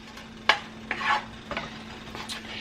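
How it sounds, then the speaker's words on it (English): Food being stirred around in a frying pan with a utensil, garlic about to be added for a garlic parmesan chicken and shrimp dish; several scraping strokes under a soft, steady sizzle, nearby and alone. "So we're gonna cook this, stir this around in the pan."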